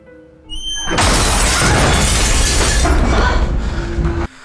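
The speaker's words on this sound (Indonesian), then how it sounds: "Semua kaca jendela pecah karena tertiup angin kencang." Glass windows shattering as strong wind blows through a house: a sudden loud crash of breaking glass bursts in and sustains a dense clattering spray for several seconds, then cuts off abruptly.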